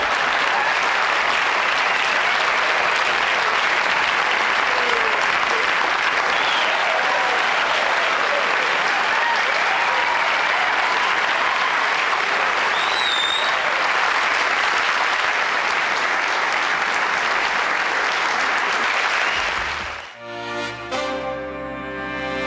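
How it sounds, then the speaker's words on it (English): Long, loud, steady studio audience applause on a 1981 late-night talk show, dense clapping sustained for about twenty seconds before cutting off abruptly into a brief musical sting. "I'm humbled by that applause."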